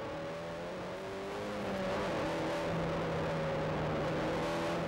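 KTM X-Bow sports car driving and accelerating, its engine a steady droning hum that rises gradually in pitch and loudness, heard close and continuous with road noise.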